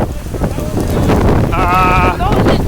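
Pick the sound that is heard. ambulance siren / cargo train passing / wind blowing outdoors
wind blowing outdoors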